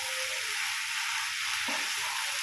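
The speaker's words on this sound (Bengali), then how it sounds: "চিংড়ি মাছটাকে মিশিয়ে নেব।" Fried prawns stirred into a jackfruit curry cooking in a pan, giving a steady, close frying sizzle that holds evenly throughout with a soft stir near the end.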